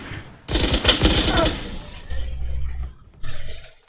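Gunfire in Valorant, a fast burst of loud automatic shots crackling up front, followed by lower rumbling hits and a final shorter volley.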